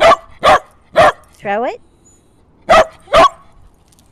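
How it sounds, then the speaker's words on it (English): A young dog gives four sharp, loud barks close up, pauses with a short whine, then barks twice more while someone talks to it about throwing a squeaky toy. "This guy's a pup, though. He's got a loud bark."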